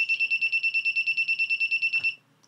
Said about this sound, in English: I'm getting my beeping